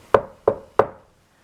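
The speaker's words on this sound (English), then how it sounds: "Red Riding Hood knocked on the door." Three sharp knocks on a wooden door, evenly spaced and close, each a crisp thud that dies away quickly, followed by silence.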